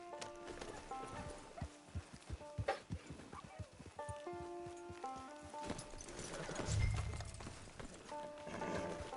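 Horse hooves clip-clopping at a steady walking rhythm in Red Dead Redemption 2, fairly quiet, with a faint whinny and game music in the background.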